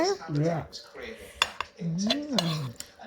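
Rice and beef stir-fry with green peppercorns dished up with utensils, with close clinks and scrapes of a spoon against a pot and plate under a woman's continuous speech.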